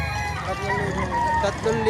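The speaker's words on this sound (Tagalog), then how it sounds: "Ang gandang manok." Chickens clucking and a rooster's drawn-out crow close by at a chicken market in Padre Garcia, Batangas, mixed with people talking in the background.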